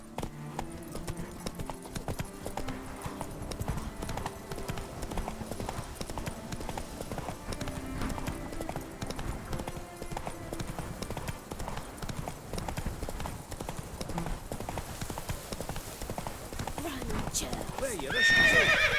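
The horse in The Witcher 3: Blood and Wine gallops with rapid, continuous hoof clip-clops, and a neigh comes near the end. A voice talks over it.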